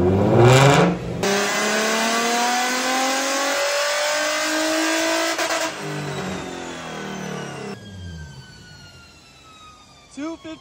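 An Infiniti G35 engine revs on a dyno during a stock run, the loud exhaust note climbing steadily in pitch as it pulls through the gears, then cutting off and dropping away to quiet near the end.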